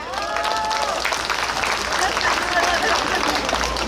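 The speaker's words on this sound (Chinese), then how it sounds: "掌声欢迎" An audience claps at a temple courtyard event in Daxi, Taoyuan, a broad, even wash of applause running throughout beneath a voice and some tonal sounds near the start.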